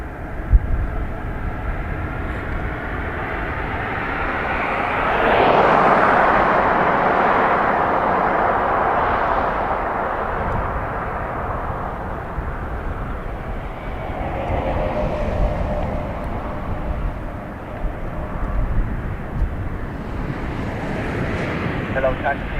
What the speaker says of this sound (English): EI89 is Aer Lingus A330-200 off to Minneapolis